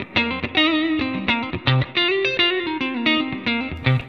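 Electric guitar played through a Positive Grid Spark amp on a clean tone, a loud riff of quick notes and chords with slight drive and effects, no voices.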